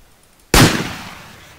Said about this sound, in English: this is how the flare sounds now.